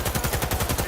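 Rapid automatic gunfire in Cyberpunk 2077 during a firefight, a close, loud burst of evenly spaced shots in a quick steady rhythm.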